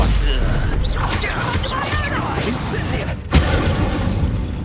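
A Confringo blasting spell in Hogwarts Legacy goes off as a sudden loud boom near the end, amid dense crackling combat noise and a voice shouting.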